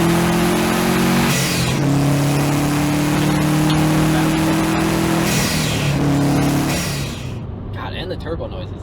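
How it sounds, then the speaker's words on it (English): A rebuilt Subaru STI with a previously blown engine revs hard up close, rising and falling through several loud pulls with turbo whooshes and flutter, dropping away at the end. "Don't pass up the turbo noises."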